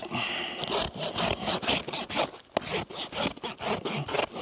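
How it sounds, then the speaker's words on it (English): A farrier's rasp files a hard horse's hoof in quick, steady back-and-forth strokes, a close, coarse scraping with a few short pauses and no talk. "Run our rasp."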